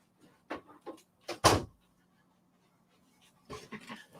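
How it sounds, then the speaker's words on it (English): A door shuts with a single sharp thud in a quiet room, set among dogs panting and moving nearby, followed by faint shuffling. "I'm going to shut my door"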